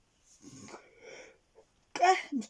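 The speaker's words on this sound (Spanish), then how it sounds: "discúlpenme que estoy bostezando." A person yawns with a long, breathy, drawn-out exhale, followed by a short pause and a brief burst of voiced sound, close and fairly quiet.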